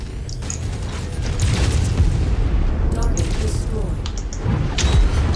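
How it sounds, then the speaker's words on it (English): Heavy booming blasts from punches in a mech combat video game rumble loudly, a sustained low explosive roar with a couple of swells and mechanical clanks. "Yeah, the explosion from that when I punch it is damaging me."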